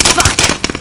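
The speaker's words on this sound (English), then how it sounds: "taking heavy fire" Heavy video game gunfire comes as a dense, loud burst of overlapping rapid shots and explosive pops packed into under a second.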